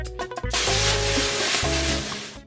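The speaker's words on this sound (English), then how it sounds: "Add the peppers and cook for 30 seconds." Peppers hit a hot pan and sizzle loudly in a continuous hiss, with a few quick clatters as the pan is tossed at the start, all close and with no talking.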